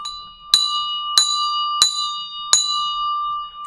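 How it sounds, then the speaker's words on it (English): A bell struck four times to mark the 4 p.m. stock market close, four bright ringing strikes evenly spaced about two-thirds of a second apart, each sustaining a clear tone, loud and alone. "4 rings of the bell for 4 p.m. EST."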